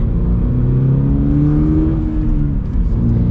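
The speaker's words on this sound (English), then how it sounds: "the thing that's nice about being a flat 4-cylinder is it's like a crescendo. It really builds up the power" A 2025 Toyota 86 with a manual gearbox, its flat-four engine droning loudly as it accelerates, pitch climbing steadily through the revs, then dipping briefly as if shifting before pulling again.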